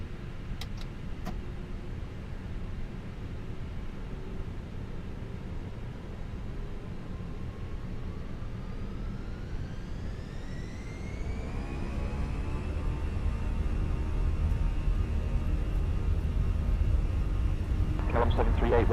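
An airliner in Flight Simulator 2024 takes off from runway 14 right, its engines spooling up from a low rumble to a rising whine and a heavy roar, with radio voices talking over it.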